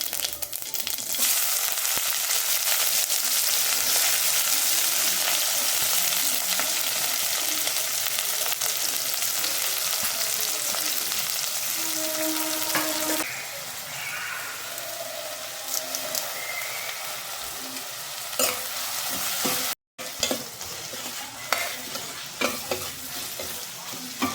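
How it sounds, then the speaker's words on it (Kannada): Onions frying with cumin and mustard seeds in a pan, a steady loud sizzle with stirring scrapes, easing to quieter crackling and occasional utensil clicks partway through. "ಈರುಳ್ಳಿನೂ ಕೂಡ ಸೇರಿಸ್ಕೊಂಡು ಅದರಲ್ಲಿರುವಂಥ ಹಸಿ ವಾಸನೆಲ್ಲ ಹೋಗಬೇಕು ಅಲ್ಲಿವರೆಗೂ ನಾವು ಚೆನ್ನಾಗಿ ಫ್ರೈ ಮಾಡ್ಕೋಬೇಕು"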